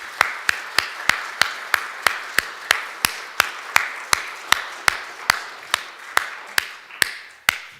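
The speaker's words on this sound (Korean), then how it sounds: "우리 다 같이 박수로 환영하겠습니다." Regular sharp claps, evenly spaced at about three per second, close and crisp against a quiet room in a church Sunday service, with no voices heard.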